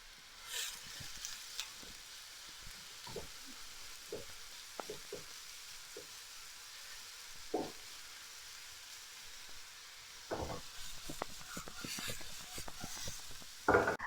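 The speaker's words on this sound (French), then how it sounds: "laissez chauffer de l'huile légèrement hein, et versez-y carottes et courgettes" Carrots and zucchini frying in lightly heated oil, a soft steady sizzle with faint scattered clicks of stirring, quiet throughout and growing a little busier near the end.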